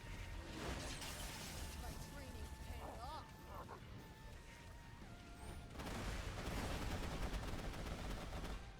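A video game boss lets loose a fast, sustained stream of gunfire, a dense crackling barrage that fills the moment, with some tonal game effects and a voice speaking over it.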